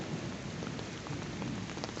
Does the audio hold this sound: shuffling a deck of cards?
no